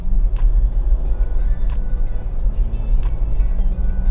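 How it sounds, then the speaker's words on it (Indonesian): Steady low engine drone of a car with an 8-speed gearbox pulling under acceleration, heard from inside the cabin, with faint chatter-like bursts on top. "Kita coba tarikannya sedikit ya."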